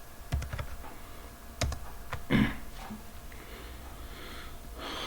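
Someone types a password on a computer keyboard: a few quiet, scattered key clicks in short bursts with a slightly louder clatter midway, close and soft over faint room hiss and a sniff.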